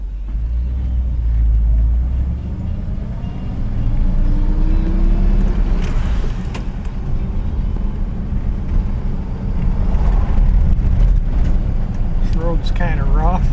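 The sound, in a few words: 1959 Chevrolet Bel Air driving on a rough road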